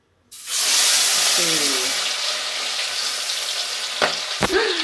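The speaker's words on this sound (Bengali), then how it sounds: "রিফাইন তেল দিয়ে রেখেছে, এবার এর মধ্যে মাছগুলো দেবে।" Fish fried in refined oil in a kadai, a loud steady sizzle that bursts in as the pieces go in and holds throughout, with a few brief clinks and knocks near the end.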